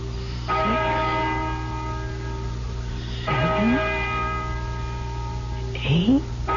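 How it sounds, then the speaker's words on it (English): Large church-style bell tolling in an old-time radio ghost drama set near an old barn, three slow resonant strikes a few seconds apart, each ringing out and decaying, with faint voice-like inflections under the strikes. "Listen to that bell."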